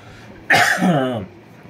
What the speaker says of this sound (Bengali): আমার তো কাশি হচ্ছে, কাশি হচ্ছে খুব